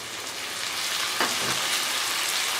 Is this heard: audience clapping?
no